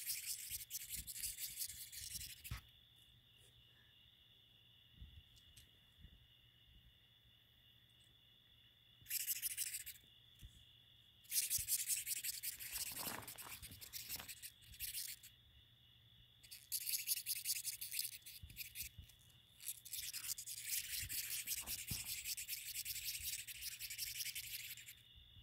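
A large pine root borer beetle, touched by hand, gives bursts of dry, raspy scratching, a few seconds each and separated by quiet gaps, close and fairly faint, with no talking over it.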